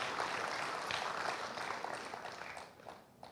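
Audience applause for honoured women at an Indonesian ceremony, a steady wash of many hands clapping at a distance, fairly faint and tapering off toward the end.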